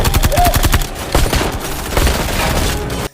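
Gunfire in an action film scene, with rapid, loud automatic bursts of shots rattling continuously in close succession and a brief break partway through before the firing resumes and then cuts off abruptly.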